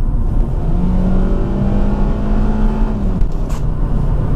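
A Kia Rio X-Line with a 1.6 engine drones loudly as it accelerates while driving, a steady close interior hum with rising engine tone and road noise.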